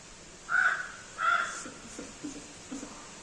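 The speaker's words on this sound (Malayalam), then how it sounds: "ഇതിപ്പോ കാക്ക ഒച്ച ഉണ്ടാക്കണമെങ്കിൽ കൂടെ ഒച്ച ഉണ്ടായിക്കോട്ടെ" A crow caws twice, loud and close, then a few softer, shorter calls follow in a quiet setting.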